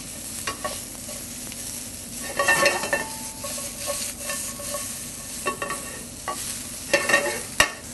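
Yellow wax beans tossed and stirred in a hot pan, a crackling sizzle broken by clinks and scrapes of a utensil against the pan in uneven bursts, close and clear.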